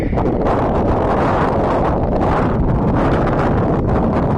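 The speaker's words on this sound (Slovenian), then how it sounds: "Malo bom počakala, ker malo veter piha, da se malo umiri" Strong wind buffets an outdoor microphone in a steady, loud, rumbling roar with gusty swells, no speech heard.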